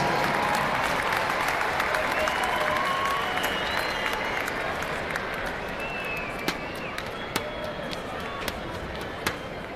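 An arena crowd applauds at a National Lacrosse League game between the Rochester Knighthawks and the Buffalo Bandits, a sustained roar of clapping and cheering with sharp claps and thuds cutting through and an announcer's voice over it.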